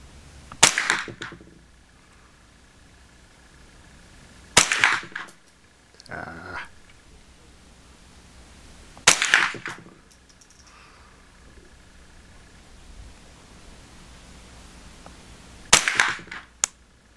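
Gunshots at an outdoor shooting range, four loud sharp reports spaced several seconds apart, each with a short ringing tail, and faint small clatters in between.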